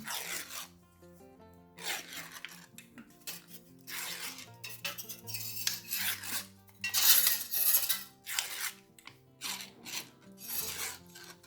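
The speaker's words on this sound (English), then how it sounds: "Just keep peeling with a sort of downward pressure." Old candle wax is peeled and scraped off by hand in repeated rasping, rubbing strokes with a rough, irregular rhythm, close and alone without any voices.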